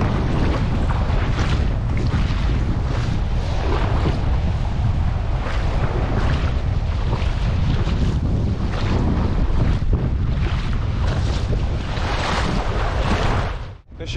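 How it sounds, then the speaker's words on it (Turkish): Strong, steady wind of about 16-17 knots roars and buffets the microphone at the Akyaka kite beach, a continuous loud rush with no talking, cutting off abruptly at the end. "Yaklaşık 16-17 knot rüzgar var şu an."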